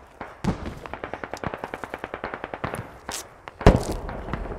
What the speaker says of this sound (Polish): Ale dalej ktoś strzela do mnie